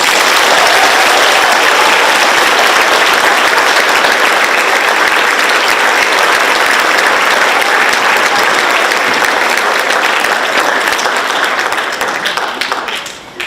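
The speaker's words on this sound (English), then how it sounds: "Let's give her a huge round of applause." An audience at a middle school spring choir concert claps loudly and continuously, a dense wave of applause that holds for several seconds before tapering off at the end.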